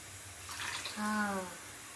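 Water used to rinse a mixer jar is poured into a roasted ground potato masala, giving a brief, soft splashing pour that rises in pitch as it fills.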